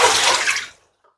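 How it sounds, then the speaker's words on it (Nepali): Water pours and splashes out of a bowl of cut potatoes that have been soaking, a short close gush that stops abruptly after under a second. "यो पानीलाई फ्याँकौँ।"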